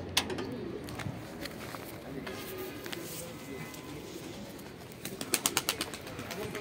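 Pigeons coo softly in a loft or rooftop setting, low murmuring calls under faint background sound, with a few sharp flapping or clapping bursts near the end.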